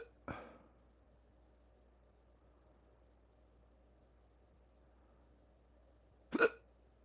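A loud, sharp hiccup bursts out near the end, following an earlier, softer hiccup at the start, with near silence between the two.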